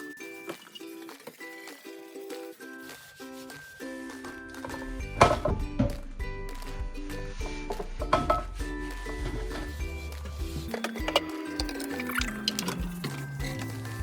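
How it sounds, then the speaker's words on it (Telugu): Water drains off partly cooked chicken through a strainer for biryani stock, a steady rushing, splashing pour that builds after a quieter start and runs continuously with a few metallic knocks. "వాటర్ని స్ట్రెయిన్ చేసుకుంటాం"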